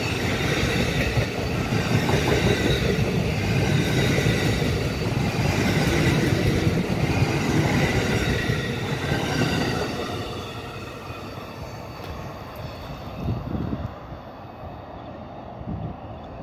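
An Amtrak passenger train rumbles past close by, wheels clattering steadily, then the roar recedes into a quieter rolling rattle with some wind buffeting.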